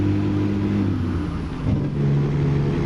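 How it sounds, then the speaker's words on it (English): Caterpillar diesel engine of a Peterbilt 368 truck in American Truck Simulator, 550 horsepower, a steady loud low rumble that dips slightly midway, then resumes, with no talking. "this Caterpillar engine sounds really damn nice"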